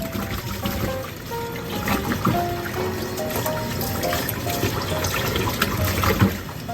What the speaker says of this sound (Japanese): いくで、水でバーッと洗う。